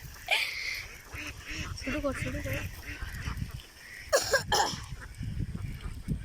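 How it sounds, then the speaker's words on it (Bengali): A flock of ducks on a duck farm quacks and honks loudly in bursts, nearby, while people talk over the commotion. "দেখেন কতগুলি হাঁস"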